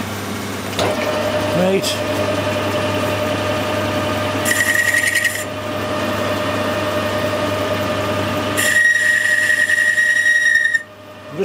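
A metal lathe boring tool with a long stick-out squeals in two sharp, high, sustained bursts over a steady low machine hum, and someone speaks briefly.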